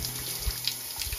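Cold fresh water runs steadily from a campsite shower in a small cubicle, a close, continuous splashing hiss.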